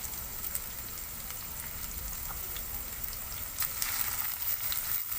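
Carrots and capsicum frying in a pan for masala Maggi: a steady, even sizzle with crackling bursts that grow a little louder toward the end, with no talking.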